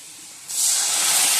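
Spices dropped into hot oil with potatoes frying in cumin and bay leaf: quiet at first, then a sudden loud, steady sizzling hiss that bursts in and keeps going close by.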